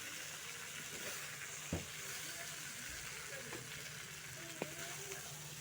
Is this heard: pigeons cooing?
no